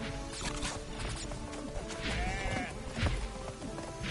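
A goat in Crash Bandicoot N.Sane Trilogy lets out a short bleat midway through, heard over layered game music, footsteps and impact sounds.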